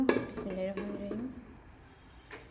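A cooking pot set down on a kitchen stove before frying ilish fish with kochur loti, giving a close metallic clank and some ringing, with faint voice-like tones early on and quiet room noise after.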